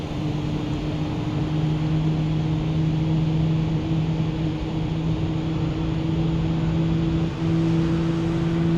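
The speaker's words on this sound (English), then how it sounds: "Let's go outside and have a look at our engine starting up, shall we?" An Airbus A320neo jet engine winds up on start in Microsoft Flight Simulator, a constant loud steady whine and hum with two sustained tones and no talk.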